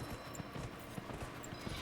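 A horse's hooves clip-clop at a steady riding pace in the video game Dragon Age: Inquisition, soft regular beats under a faint ambient hum with no talking.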